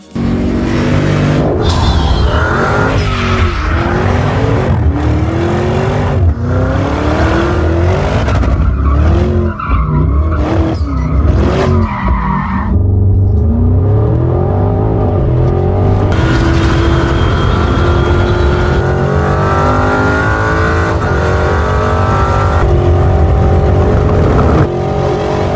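The Porsche Cayenne Turbo GT's 4-liter twin-turbo V8 in Need for Speed No Limits roars continuously and loud, with rising revs, repeated shifts and long tire squeals and skids throughout.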